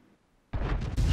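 A single SU-8 artillery gun fires in World of Tanks, a sudden loud boom after a quiet moment, followed by a rumbling tail and a second swell of blast noise.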